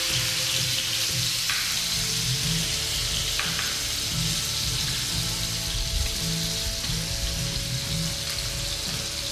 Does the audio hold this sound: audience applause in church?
no